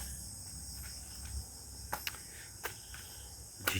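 Crickets chirp steadily on a monsoon night, a faint high continuous trill with a few sharper insect clicks popping out, distant and calm with no voices.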